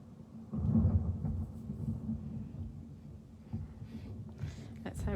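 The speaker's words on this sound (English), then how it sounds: "There's the thunder." Thunder rumbles during a storm heard from indoors, a low rolling swell that rises and fades into softer ongoing rumble, with a person speaking at the same time.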